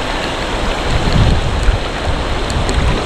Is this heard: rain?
yes